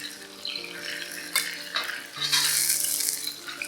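Fish frying in a hot pan, a steady close sizzle with a louder burst of hiss partway through as the fillet is turned over, plus a few soft scrapes and clinks of a utensil against the pan.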